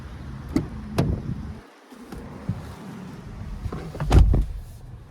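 A driver climbs into the seat of a 2023 Chevrolet Traverse Premier: soft rustles and a couple of light clicks, then a solid door thump near the end, heard close up in a quiet setting.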